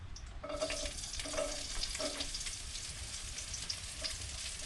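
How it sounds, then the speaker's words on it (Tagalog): Beef offal sizzles as it is sautéed in hot oil for Bulacan-style papaitan. There is a steady, loud frying hiss, with a few scraping stirs of the pan near the start. "igigisa na natin ang ating mga lamang loob na baka. Igigisa na natin. Mainit na yung ating mantika."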